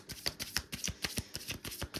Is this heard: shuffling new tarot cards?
yes